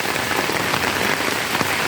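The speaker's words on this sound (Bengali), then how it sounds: "মুসলধারায় বৃষ্টি নামে আকাশ বাতাস কালো করে যেরকম বৃষ্টি নামে সেই রকম বৃষ্টি হচ্ছে" Heavy monsoon-style downpour pounds steadily on surfaces nearby, a dense, unbroken roar of rain with no voices.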